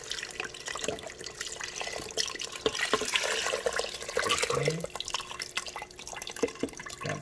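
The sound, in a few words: pouring chicken broth and water into Instant Pot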